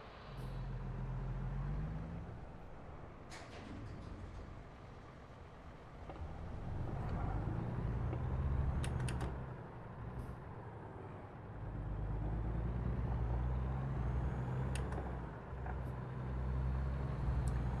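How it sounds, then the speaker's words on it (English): Truck driving past in American Truck Simulator, a loud low engine rumble that swells and fades over several seconds amid traffic noise, with brief high hissing bursts like air brakes. "Alright, so after this truck goes by..."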